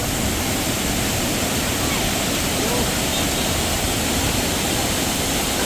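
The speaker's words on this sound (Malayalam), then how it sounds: "ഈ കാണുന്നതാണ് ചിന്നക്കനാൽ വാട്ടർഫോൾസ്." Chinnakanal waterfall near Munnar pours with a loud, constant roar of rushing water, a dense unbroken wash of sound heard up close throughout.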